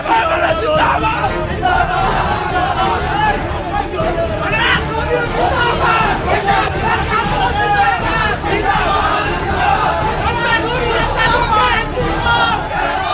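Angry protest crowd massed in a Nepal street confronting police, loud continuous roar of many voices with rising yells and battle-cry shouts, dense and near for the whole stretch.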